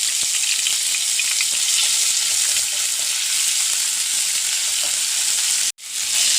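Ginger, garlic, green chili and curry leaves fry in hot oil in a pan, giving a loud, steady, close sizzle that runs without pause and cuts off abruptly near the end, briefly resuming after. No one speaks.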